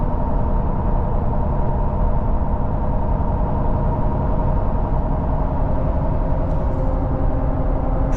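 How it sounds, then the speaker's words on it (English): Wrangler Duratrac tires on a truck give off a loud, aggressive road drone. A constant low rumble and hum carries steadily throughout, with no talking. "So this is what these Duratracs sound like"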